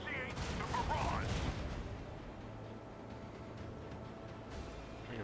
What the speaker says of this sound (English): Initiate the barrage!